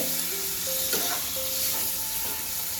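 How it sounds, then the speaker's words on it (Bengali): Bombay duck (lote fish) being stirred into a spice paste frying in a pan: a steady close sizzle with a couple of soft scraping strokes of the spatula, no voices. "এবার আমি মাছটা দিয়ে দেবো। মাছটা দিয়ে ভালো করে নেড়ে,"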